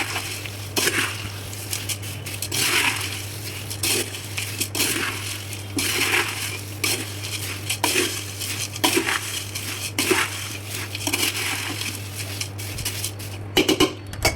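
Crunchy fried Indian mixture snack with curry leaves is stirred in a bowl, giving repeated close rustling, crackling scrapes in rhythmic bursts over a low steady hum.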